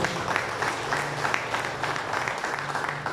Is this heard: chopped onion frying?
no